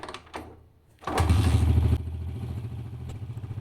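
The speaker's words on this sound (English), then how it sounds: "Now start the engine." Motorcycle engine started up for an ignition timing check: a brief cranking burst, then it catches into a loud, close, choppy idle with rapid clattering pulses that settle slightly quieter.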